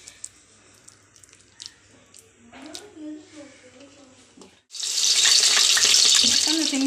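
Onion vadas drop into hot oil and set off a loud, steady, broadband sizzle that fills the second half, after a quieter stretch of a person talking and light kitchen handling.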